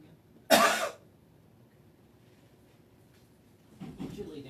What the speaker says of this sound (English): Give me a cough. Real hard cough. And a big cough again.